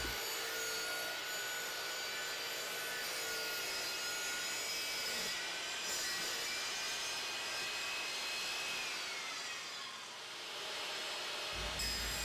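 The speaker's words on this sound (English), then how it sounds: "Let's cut some wood. I'm going to start off with some 3/4 inch pine using the low fence." SawStop Jobsite Pro table saw ripping 3/4 inch pine against a low fence: a steady, loud whining saw drone with broadband cutting noise running throughout, easing briefly near the end, with no talking.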